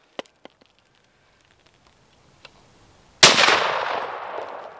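Ishapore 2A rifle fired, one loud, sharp report near the end that rings out into a decaying tail, after a few faint clicks and taps.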